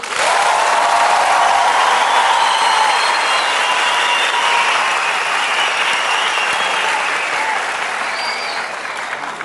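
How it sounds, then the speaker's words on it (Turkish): On a Turkish television talent show, the studio audience bursts into loud, sustained applause with some cheering, a dense roar of clapping that holds strong for most of nine seconds before gradually tapering off. "Evet diyenler alkışlasın."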